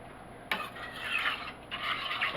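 A spoon stirs a rice mixture in a cooking pot for a white cheddar and broccoli casserole, giving a steady close scraping and swishing that starts abruptly and continues with brief pauses.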